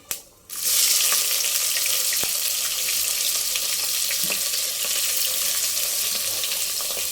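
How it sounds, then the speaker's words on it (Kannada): Onions sautéing in a pan for palak paneer give a steady, close sizzling hiss that starts after a brief quiet moment and holds evenly throughout, with a few faint clinks and no talking. "ಈರುಳ್ಳಿ ಹಾಕಿ ಅದನ್ನು ಸ್ವಲ್ಪ ಬಾಡಿಸ್ಕೊಳ್ಳೋಣ."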